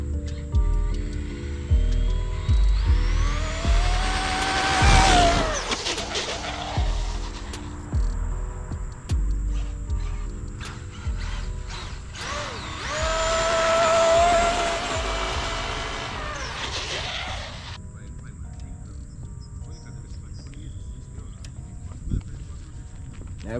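A Traxxas Maxx Slash RC truck with a faulty steering setup speeds past. Its electric motor whines high and rises in two bursts, near the start and midway through, over a steady background hum.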